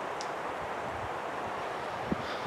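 Wind blowing through a forest, a soft, steady rushing hiss with faint leaf rustle and wind noise on the microphone, continuous and fairly quiet, with no talking.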